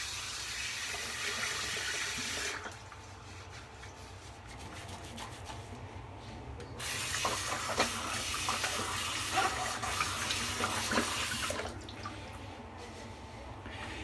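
A faucet runs into a sink while the face is wetted before a shave, a soft steady stream of water broken by splashing pauses as hands move under it, quiet and close with no talking.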